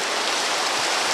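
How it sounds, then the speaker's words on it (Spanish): Steady, dense rain hisses without a break through the whole stretch, heard in a video game. The downpour is moderately loud and has no voices over it. "Se pone a llover, ¿eh?"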